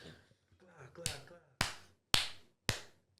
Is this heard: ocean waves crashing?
no